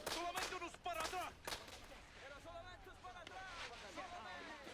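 Firecrackers go off in a quick burst of sharp cracks, a few close together at the start and then scattered, faint pops under a busy background of voices.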